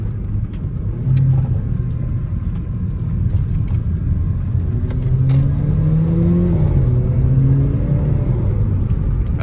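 A Mercedes CLA45 engine over-revs during a road drive, a loud, steady drone from inside the car with a rising, shifting engine tone, no talking.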